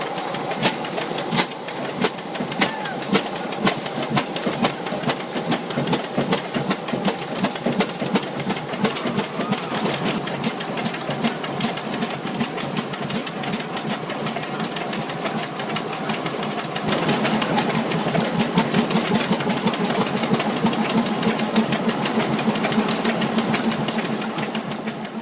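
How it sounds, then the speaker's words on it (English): A 1930s Titan Model 36A 40-horsepower diesel engine that once ran farm irrigation pumps, its rapid even knocking loud and close, settling into a steadier, slightly heavier beat partway through, with no voices. "This 40-horsepower Model 36A, a 1930s Titan, emits a deep, smoky rumble."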